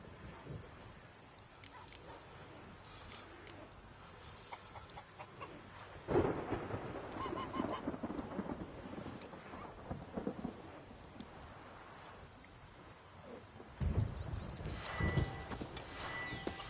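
Rain falls steadily in The Witcher 3 as thunder rolls in two heavy rumbling bursts, the first about a third of the way in and the second near the end, over a quieter patter of drops.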